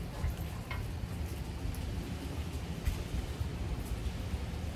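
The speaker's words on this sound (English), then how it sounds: "I guess it did start raining" Rain begins falling outdoors, a steady, soft hiss of drops with a low rumbling undertone, continuous and fairly faint, with no voices.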